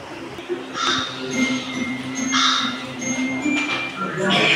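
A crow caws several times in bursts, loud and fairly close, over a steady outdoor background with a voice murmuring underneath.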